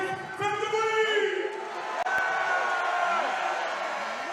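A boxing arena crowd roars and cheers for Jordy Weiss while an announcer's amplified voice urges them on, noise swelling steadily beneath the loud talk.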